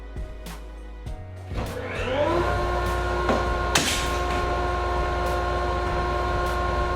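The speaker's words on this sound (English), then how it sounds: "So now I'm going to turn on the dust collection system" Workshop dust collection system switching on: a motor winds up over about two seconds into a steady loud hum, with a clatter partway through as something falls over nearby.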